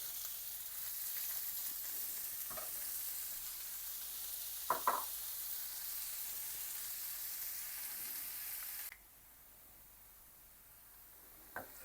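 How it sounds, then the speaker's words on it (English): Chopped onions sautéing in oil in a pan over medium heat for Mumbai-style pav bhaji, a steady close hiss and sizzle with a few soft stirring clicks, the sizzle dropping quieter near the end. "So I will let onions saute for around 5 minutes on medium heat."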